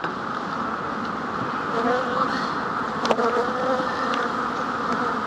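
Honeybees hum and drone steadily around an open hive during a spring inspection, with individual bees whining close by over the constant buzz and faint voices in the background.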